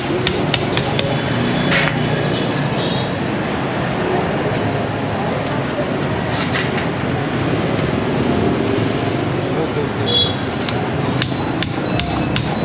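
Repeated sharp hammer taps chop through crispy-skinned roast pork at a Vietnamese food stall, the knocks coming in irregular bursts over a constant busy background hiss; close and loud.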